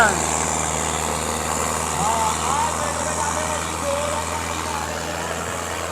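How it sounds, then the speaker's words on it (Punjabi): A Sonalika tractor without a turbo pulls a load while its gears are tried out, giving a steady, loud diesel drone that stays even throughout, with no clear pauses. "ਟਰੈਕਟਰ ਦਾ ਇਹ ਜ਼ੋਰ ਚੈੱਕ ਕਰੀ ਜਾਂਦਾ ਹੁਣ ਜੋਬਰ ਪੱਟ ਪੱਟ ਗੇਅਰ ਲਾਲਾ ਚੈੱਕ ਕਰੀ ਜਾਂਦਾ"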